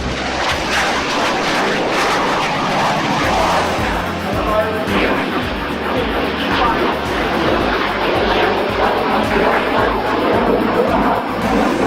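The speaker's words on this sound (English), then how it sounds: "I can still come around the corner making some noise with the jet." A loud, continuous aerobatic jet airplane engine roar with rumbling low end, sustained and steady throughout, with faint voice-like traces mixed into the noise.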